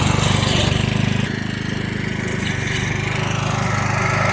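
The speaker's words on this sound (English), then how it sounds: "That's power rake dethatching." A petrol power rake dethatches a lawn with a steady, close engine drone and a rapid rhythmic clatter from the rake tines.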